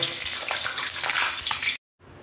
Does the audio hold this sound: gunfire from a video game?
no